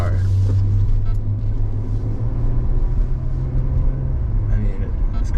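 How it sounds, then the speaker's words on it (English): A Maserati Ghibli's engine and exhaust rumble while driving, a deep steady drone with a brief rise near the start, heard from inside the car with little else over it. "You're paying for the exhaust note."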